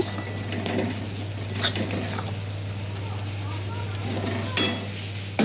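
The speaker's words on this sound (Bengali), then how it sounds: "মশলাটা আমার প্রায় অর্ধেক কষানো হয়ে গেছে" Spice paste with Kashmiri red chilli powder frying in a pan for palak paneer: a steady close sizzle under a constant low hum, with a few metallic scrapes and clinks from stirring, one louder near the end.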